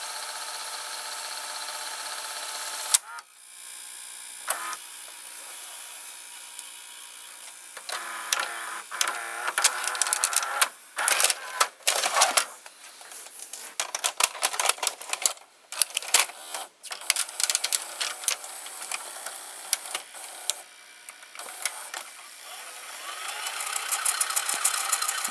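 An RCA VR335 VCR rewinding a tape, its motor giving a steady whir, then a busier stretch of clicking and clattering mechanism noises before the whir picks up again near the end.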